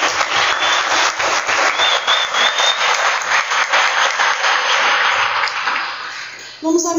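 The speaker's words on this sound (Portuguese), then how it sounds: "uma salva de palmas para o Senhor" A congregation at a youth church service applauds, a sustained, fairly loud stretch of many hands clapping with faint voices and a thin tone underneath, fading slightly before a voice cuts in at the end.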